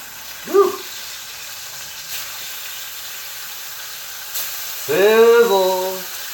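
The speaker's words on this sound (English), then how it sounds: "Sizzle!" Bacon frying in a pan gives off a steady, close sizzling hiss that runs throughout, with brief voice exclamations near the start and end.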